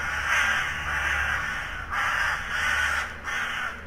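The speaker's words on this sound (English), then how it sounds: "Oh, your crows are going nuts." Crows caw loudly and repeatedly in the video game Bad Dream: Coma, with overlapping harsh calls coming in steady waves and no talking.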